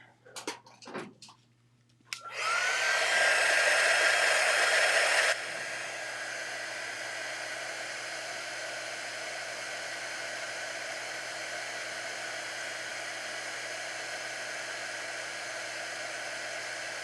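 A hair dryer blowing on stained glass paint, starting after a few clunks and handling sounds, a loud steady whoosh that drops to a lower setting and keeps running evenly close by.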